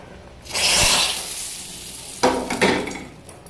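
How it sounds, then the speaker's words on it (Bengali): Hot spice tempering poured into cooked dal gives a sudden loud sizzle that hisses and slowly fades, then a second burst of sizzling and clinking as it is stirred in; no talking. "ডালের ভিতরে আমি ফোড়নটা দিয়ে দিচ্ছি।"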